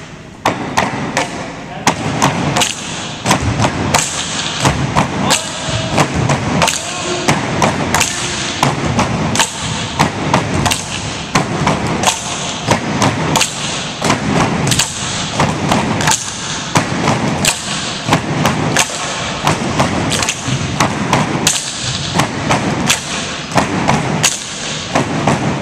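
Bamboo poles for tinikling bang in a steady, fast rhythm of loud thuds and clacks that runs throughout, with people talking and calling out now and then over the beat.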